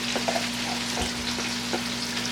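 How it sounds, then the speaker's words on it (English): Bacon with peppers and onions frying in a pan gives a dense, continuous close sizzle with a few soft stirring knocks and a steady low hum beneath, with no talk. "Now it's time to introduce the peppers and onions, and we'll let those cook down."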